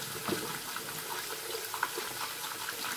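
Hot water flows gently from a tap for a face rinse before a shave, a soft, low-level trickling hiss with faint splashes.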